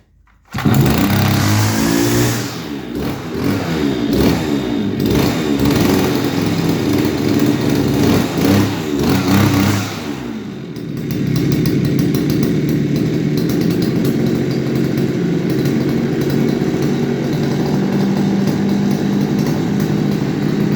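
A repaired petrol string trimmer starts and runs, its small two-stroke engine buzzing loudly and close, revving unevenly for about ten seconds before settling into a steadier drone to the end.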